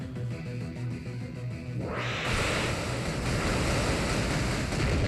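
Hydro Pump water attack in the Pokémon Moon video game: a quiet start, then a sudden loud surge of rushing, gushing water noise that swells and continues to the end.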